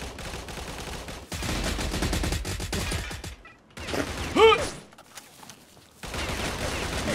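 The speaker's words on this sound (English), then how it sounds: "You got shot at." Bursts of gunfire in the video game STALCRAFT, loud dense volleys filling most of the stretch, broken by a quieter gap with a single sharp report, then the shooting resumes.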